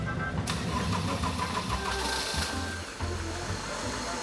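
A car engine cranks and catches after sitting through a Scottish winter on a trickle charger, a burst of starter whir followed by a rough, uneven idle, close and fairly loud.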